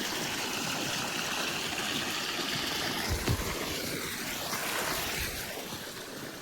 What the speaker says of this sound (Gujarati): જોતા રહી જાવ, પાણી થઈ ગયું ચાલુ.